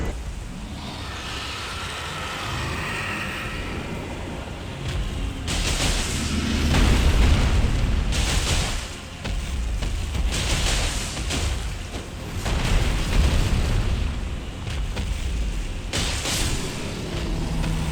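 Elden Ring Arcane build gameplay with bursts of heavy booming damage explosions landing in quick succession over a rumbling game soundscape, loud and dense throughout.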